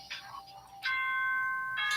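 School broadcast chime from the Danganronpa video game, a short two-tone bell sequence of clear sustained tones, heard alone and fairly close.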